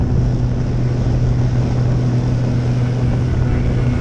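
An RC J3 Cub model airplane's engine runs at a steady, loud drone during takeoff from a grass field, a continuous buzzing hum with no voices.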